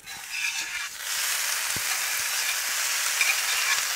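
Canned corned beef hash hits a hot Blackstone griddle and breaks into a loud, steady sizzle that holds close and unbroken, with no voices.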